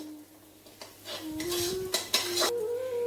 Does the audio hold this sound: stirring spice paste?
yes